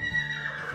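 An Arabian mare neighs once in a short, fairly quiet whinny, close and steady, with no talking.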